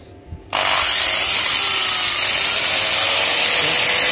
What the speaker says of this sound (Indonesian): Saya menyalakan, coba mesin bor dulu deh